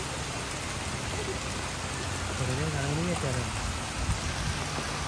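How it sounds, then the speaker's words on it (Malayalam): Rain falling outdoors, a steady close hiss of drops pattering on surfaces without letup, with a faint voice murmuring underneath partway through. "നമ്മളിവിടെ എത്തിയപ്പോൾ തന്നെ മഴ പെയ്യാൻ തുടങ്ങുന്നുണ്ട് കേട്ടോ"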